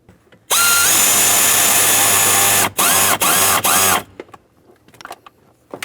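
Power drill driving in blower motor resistor screws on a 2007-2014 Ford Edge, a loud close whine lasting about three seconds, then three short bursts before it stops.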